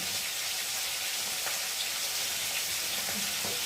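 Fish frying in a pan of oil, a continuous close crackling sizzle with small pops, steady throughout with no talking.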